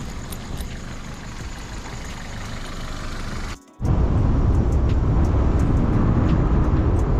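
Motorcycle engine idling while warming up, a low steady rumble that drops out briefly partway through, then returns louder and closer, with no talking.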